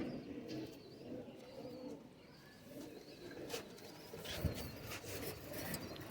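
Soft cooing of banded breeding pigeons blends into a busy, murmuring background, with occasional chirps and faint rustling throughout.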